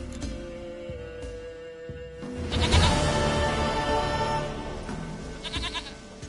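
Goat bleats ring out in a PS4 game scene, several wavering calls stacked over a steady music and ambient bed, swelling louder in the middle and fading near the end.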